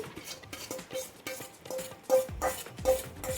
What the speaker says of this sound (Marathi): छान आता मिक्स करून घेऊ आपण